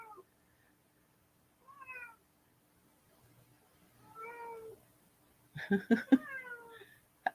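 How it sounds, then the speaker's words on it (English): A cat meows several times, short mews spaced apart in a quiet room, ending with a louder, more insistent cry. "I've got a little pussycat meowing at me."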